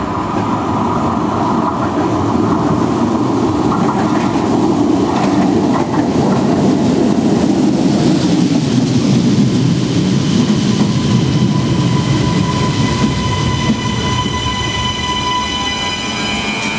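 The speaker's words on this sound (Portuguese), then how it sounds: "Atenção à passagem de um comboio sem paragem na linha número 2." A non-stopping train speeds through Contumil station on line 2, a loud close roar of wheels and rushing air that holds steady throughout, with faint metallic squeal near the end.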